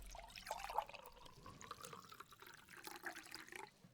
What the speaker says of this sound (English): Tom, can you fill it with water from the jug for me, please?